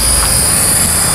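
A Tarot 450 GPS RC helicopter in flight gives a steady, loud high-pitched whine from its rotor and motor, continuous with no break.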